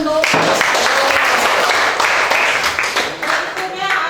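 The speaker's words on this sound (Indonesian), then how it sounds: "Oke, kita beri aplaus untuk." A classroom group gives a round of applause during a lesson, a loud, steady burst of clapping that lasts about four seconds before tapering, with faint talk mixed in.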